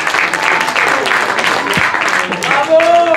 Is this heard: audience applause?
yes